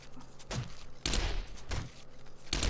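Gun firing in the co-op survival game 7 Days to Die, several sharp heavy shots spaced irregularly over a few seconds, moderately loud against a quiet background.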